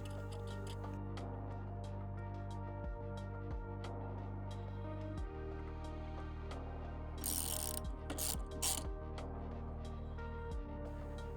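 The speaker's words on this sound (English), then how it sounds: "With a 13mm spanner or socket and the T30 Torx, tighten up the bolt on the pannier rack support." A ratchet tightens the bolt on a pannier rack support of a 2024 KTM 1290 Super Adventure R, heard as runs of close, steady clicking with short pauses between strokes, plus a brief louder metallic rattle near the end.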